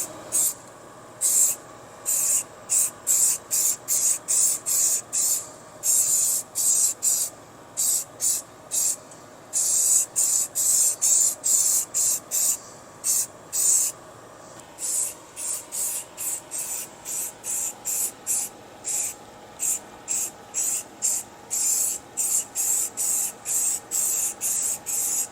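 High-heat ceramic aluminum spray paint rated to 2,000 degrees Fahrenheit applied to an engine, dozens of short hissing bursts from the aerosol can in quick, uneven succession, close and loud.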